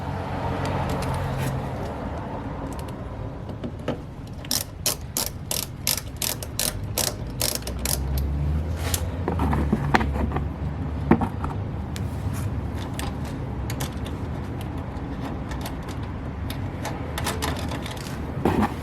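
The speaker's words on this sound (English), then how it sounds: "Don't forget you reuse the 2 screws. Kind of just lightly tighten that down." Rapid ratchet clicks in bursts from lightly tightening the screws on RallyArmor mudflaps during an install, close and fairly loud over a steady background hum, with no talking.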